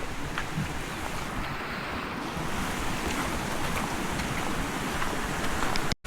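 A flooded river rushes after heavy Konkan monsoon rain, a loud, steady broadband roar of fast water with some wind buffeting on the microphone, close and continuous, without talk.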